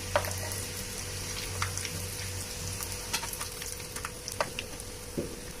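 Sweet dough frying in oil, a steady close crackle of bubbling oil running throughout with a few sharper pops and a low hum underneath.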